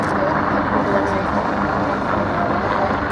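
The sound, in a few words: coastguard search and rescue helicopter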